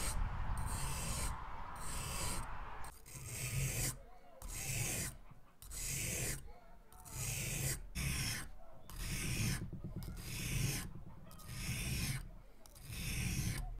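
Rhythmic rasping strokes of a shuriken blade drawn across a 400-grit whetstone, sets of short scraping passes separated by brief pauses, close and steady with no talking.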